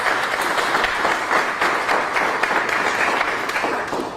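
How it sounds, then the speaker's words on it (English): An audience bursts into steady applause at a public event about Birmingham drinking water funding, dense clapping sustained for several seconds at close range. "That deserves a round of applause."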